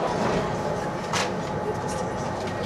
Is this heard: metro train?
yes